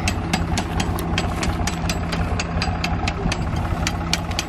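A tractor's diesel engine chugs steadily nearby while digging potatoes, with a rhythmic knocking pulse and clattering overtones, running continuously without pause.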